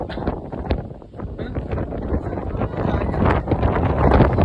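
Strong wind buffets and roars against the microphone in heavy gusts on a hilltop, with people talking faintly underneath.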